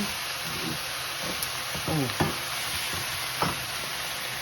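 Vegetables and noodles for vegetarian spring rolls are stir-fried in a pan, a steady loud sizzle broken by a few scraping, clattering utensil strokes, with no talking.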